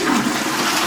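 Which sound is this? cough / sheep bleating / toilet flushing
toilet flushing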